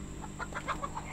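Hens in the farming game Garden Paws cluck in a short run of soft, quick clucks over a steady background hum, without any voices.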